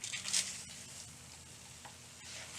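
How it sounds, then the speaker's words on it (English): Granola stirred back into melted sugar syrup in a hot pan gives a soft, steady sizzle with light scraping and stirring, close and fairly quiet, with a brief brighter crackle near the start. "add our granola back into the pan"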